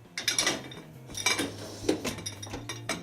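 A plate is set into the rack of a Siemens Varioflex dishwasher, with several light clinks and knocks against the rack and cutlery basket, close up and fairly quiet.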